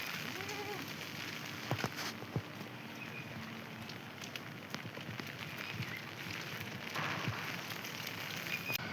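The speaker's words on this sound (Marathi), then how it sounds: "जरा बारीक पाऊस चालू आहे." Light rain falls steadily outdoors around a large tree, a faint, even patter with scattered soft drops and small ticks throughout.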